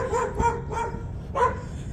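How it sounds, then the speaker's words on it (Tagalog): A dog barks several times at close range: three quick barks, a pause, then one more sharp bark, all loud and punchy against a quiet outdoor background. "Ito matahol pong aso."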